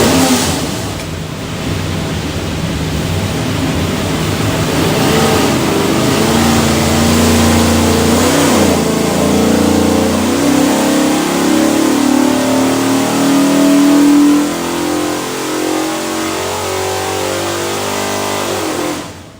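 A 408 Windsor V8 destined for a '69 Mach 1 roars on an engine dyno during a pull, its loud, sustained revving climbing steadily for most of the run before easing off near the end.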